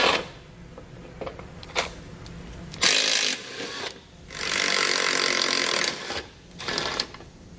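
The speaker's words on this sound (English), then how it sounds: "You'll use a 15mm socket to remove those." Bolts on a bumper beam behind the fascia being spun out with a 15mm socket on a power tool during a trailer hitch install, heard as several loud whirring bursts of a few seconds each, separated by quieter pauses.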